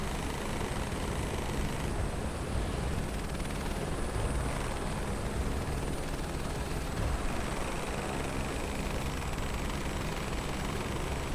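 Helicopter in Microsoft Flight Simulator 2024 flying at high altitude over Mount Everest, a steady loud rotor and turbine drone with a thin high whine, unbroken throughout and with no talking.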